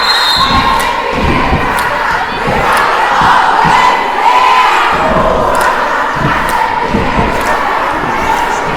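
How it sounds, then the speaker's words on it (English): A school cheer team for Freire Academy cheers loudly and continuously through a girls' basketball game, with sustained crowd noise and occasional shouts and thumps in the gym. "Cheer team for FREIRE Academy."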